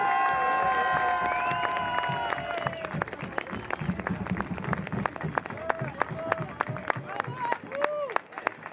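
A crowd at a street protest rally in Colmar, France applauds and cheers, with sustained clapping and scattered shouts, while a French-speaking voice speaks over the noise early on.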